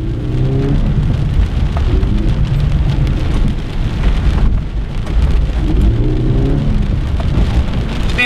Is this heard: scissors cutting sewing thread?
no